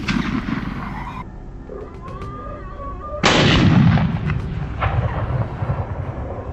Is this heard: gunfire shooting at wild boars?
yes